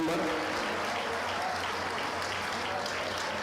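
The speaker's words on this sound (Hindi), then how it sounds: "एक बार जोरदार ताली भाई मन पर।" A crowd applauds at a Hareli rally stage program in Chhattisgarh, with a dense wash of clapping that stays steady throughout, fairly close, with some voices mixed in.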